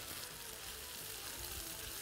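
Lamb meat frying in hot oil, a steady, even sizzle that runs unbroken throughout with no voices over it.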